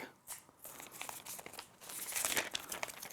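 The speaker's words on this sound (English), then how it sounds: "A satisfying peel again." Thin protective plastic film peeled off a black Google Pixel 3a XL phone, a close, bright crinkling and crackling that swells into a louder tearing rustle toward the end, with no talking.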